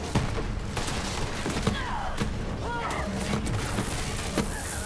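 Sniper rifle shots in the video game Borderlands 3 ring out as a series of sharp, loud cracks scattered irregularly across the clip, amid other game effects and background clatter.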